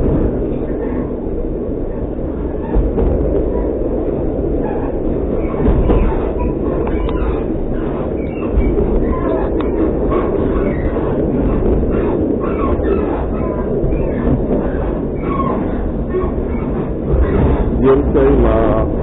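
A steady, rumbling train ride on rails, with continuous low-frequency rolling noise and faint rhythmic clatter throughout, loud and close.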